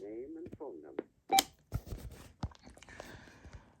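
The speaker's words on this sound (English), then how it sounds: "Oh, the answering system picked up." An RCA telephone answering system picks up with a sharp electronic beep, followed by short clicks and tones while someone talks over it.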